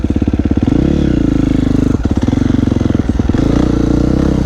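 A KTM 350 XCF dirt bike rides forest trails in autumn, its engine loud and close with a steady rapid thrum and brief revs up and down.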